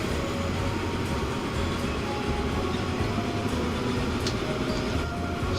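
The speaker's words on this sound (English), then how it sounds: "this train is rocketing 50 mile an hour" A train in the Transport Fever video game runs along rails at speed, a steady dense rumble with faint rhythmic clicks and occasional squeals, with no talking over it.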